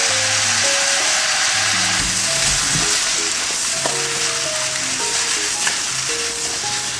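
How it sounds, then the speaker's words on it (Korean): Meat, vegetables and chili powder stir-fry in hot scallion oil for a Korean meat jjamppong, a loud continuous close sizzle with scraping and stirring throughout. "그 다음 준비해두신 채소들과 고춧가루를 넣고 볶다가"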